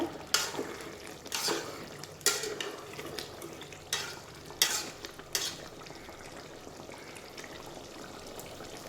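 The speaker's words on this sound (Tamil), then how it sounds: "கறி லீஃபையும் போட்டு ஒரு மிக்ஸ் கொடுங்க" A spoon stirs a dried fish curry in a pan after curry leaves go in, making repeated close scraping strokes at an irregular pace over a soft, continuous cooking bubble. No one speaks.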